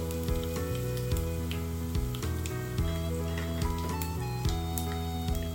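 Crushed onions and turmeric fry in a pan with a steady, close sizzle. A background music melody with pitched notes plays under it and no one speaks.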